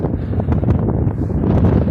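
Wind buffets the microphone, a constant low rumbling roar with gusty swells and no clear voices.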